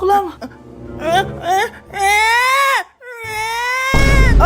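A young child cries and wails loudly and close by, in long rising and falling sobs broken by short gasps, and ends in a sustained howl.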